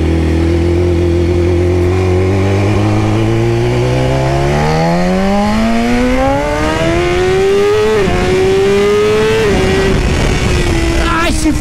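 A loud BMW S 1000 RR motorcycle engine with a stainless steel exhaust header revs up, its pitch climbing steadily over several seconds, then holding high with a brief dip and roar near the end.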